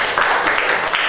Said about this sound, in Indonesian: Kita beri tepuk tangan kepada semua orang yang melayani hari ini.